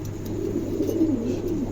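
A light silver-coloured male pigeon at a pigeon market gives a low, rolling coo close by over a steady background hum.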